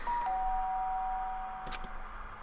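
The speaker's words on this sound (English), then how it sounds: "The sharp sound of the doorbell pierced my sleepy haze and pulled me back to the real world." A doorbell in the video game Danganronpa: Trigger Happy Havoc sounds a single sustained electronic chime tone at moderate volume over a soft background hum, with a brief faint click near the end.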